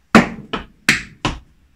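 Hard-shoe dance steps strike a floor in four crisp taps, two heavier stamps each followed by a lighter step, close and loud with short gaps between them. No one speaks.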